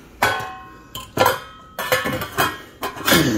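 Plastic lid of a household juice extractor being fitted and clicked into place, four or five short clattering knocks and clinks, close and fairly loud, with no talking.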